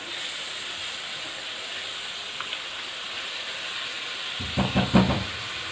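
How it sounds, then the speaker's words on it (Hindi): Keema with onion and ginger garlic paste fries in oil over medium heat, giving a steady, even sizzle throughout, with a few brief utensil clanks near the end. "मीडियम आंच पे मैं इसको फ्राई कर रही हूँ।"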